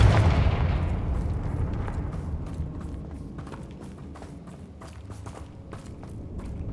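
Confringo fire spell explosions in the video game Hogwarts Legacy, a heavy booming blast that rumbles and fades, followed by a rapid string of crackling impacts and thuds.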